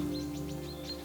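Magpies and small birds calling close to a woodland bird hide, a quick run of short high chirps over a steady low background hum.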